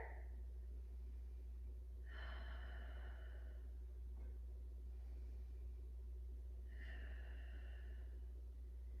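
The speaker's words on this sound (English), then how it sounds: "Couple more rounds of breath here." Participants in a vinyasa flow yoga class take slow, audible breaths, two long breathy exhales spaced several seconds apart over a steady low background hum, quiet and fairly close.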